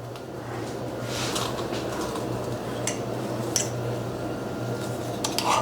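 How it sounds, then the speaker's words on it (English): Cooked potatoes pressed through a handheld potato ricer in a home kitchen, giving a steady soft squishing mash with scattered metallic clinks of the ricer and pan, over a constant low hum. "I'm going to continue to rice my potatoes"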